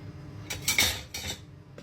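A cooking pot is handled in a home kitchen, giving a few clattering metallic knocks and scrapes, close and moderately loud, with no talking.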